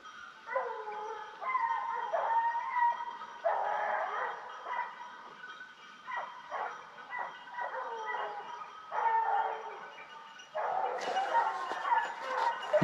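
Hunting dogs bay and yelp during a wild boar drive in the woods, a pack of overlapping barks and howls at mid distance, rising in bursts and growing louder toward the end.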